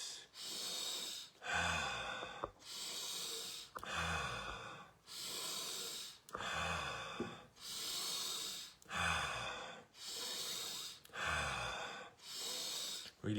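Slow, deep breathing during a guided meditation, with long inhales and exhales alternating in an even rhythm of about nine cycles. The breaths are close and clear, with no talking over them.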